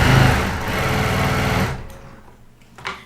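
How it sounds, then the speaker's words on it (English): A sewing machine runs fast and steady while chain piecing quilt blocks, a close whirring stitch drone that stops abruptly midway, followed by faint handling and a soft tap. "Whenever I'm sewing blocks that go together, I sew block 1 and I keep chain piecing block 2."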